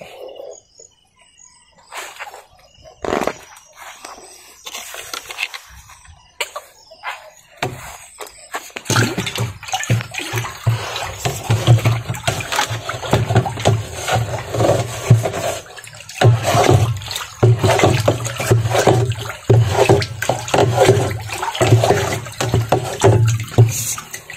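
Leftover liquid fertilizer is stirred into water for fertigating a chili field. Continuous close sloshing and splashing builds after a few scattered knocks and rises to a busy, churning swirl that runs on for many seconds.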